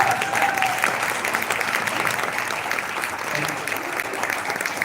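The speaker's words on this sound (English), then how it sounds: "let's give these guys a round of applause" An indoor audience claps in steady, dense applause throughout, loud and close, with a voice briefly audible over it.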